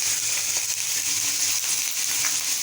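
Ginger, garlic and onion paste frying in hot oil, a steady close sizzle with fine crackling that holds evenly throughout, no voices.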